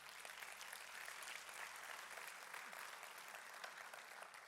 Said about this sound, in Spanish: aplauso de nuevo al Señor.